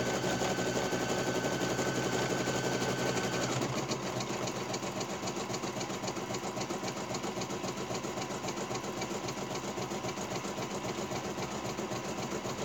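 An embroidery machine stitches a satin stitch on a coaster, a steady fast mechanical chatter of needle strokes that runs continuously and close throughout, shifting slightly in tone partway through.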